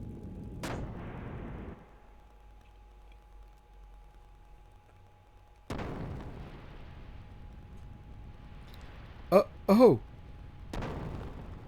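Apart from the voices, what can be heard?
ship cannon fire in video game Xenogears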